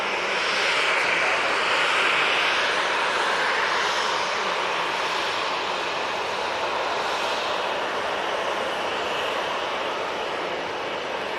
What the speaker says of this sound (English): RyanAir making its way towards us. It's the 737-800, and this is off to Faro